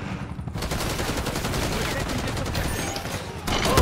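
Dense, continuous automatic gunfire in Call of Duty Black Ops 6 multiplayer, rapid bursts layered with other shots, loud and close, with a brief swell of louder fire near the end.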